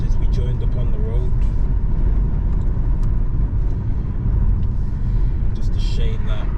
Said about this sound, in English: it's just clogged with traffic